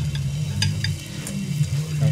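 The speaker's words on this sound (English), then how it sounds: "Here's the sizzle. Sizzle's back." Garlic sausage sizzles steadily in an oil-sprayed frying pan, a constant close hiss and crackle with a low hum underneath and a few brief clinks.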